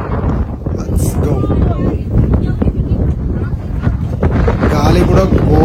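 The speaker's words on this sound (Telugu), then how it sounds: "గాలి కూడా ఘోరంగా ఉండే" Strong wind at Mandalpatti peak roars in a dense, steady, loud rush across the microphone, with gusty swells throughout and no clear voices.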